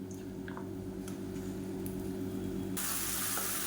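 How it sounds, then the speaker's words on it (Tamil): A ground mint and coriander paste hits hot oil in a pan, producing a steady, close hiss and sizzle that swells brighter and louder toward the end. "இப்போ எண்ணெய் நல்லா சூடாகிடுச்சு நம்ம அரைச்சி வச்சுருக்க இந்த புதினா கொத்தமல்லி பேஸ்ட்டை சேர்த்துக்கலாம்"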